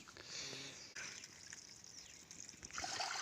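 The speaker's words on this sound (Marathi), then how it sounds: "तीन पाण्यानं हे असं तांदूळ धुवून टाकायचे आहे" Faint trickling and sloshing of water as rice is rinsed and swirled, quiet throughout with a soft splash near the end.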